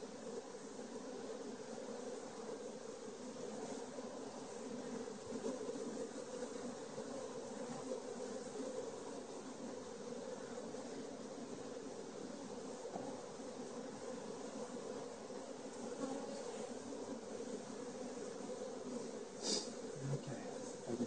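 Dense honey bee buzzing fills an opened beehive, a loud, even drone that holds steady throughout, broken only by a brief knock of handling near the end.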